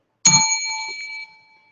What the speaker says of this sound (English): I've been ringing this bell here.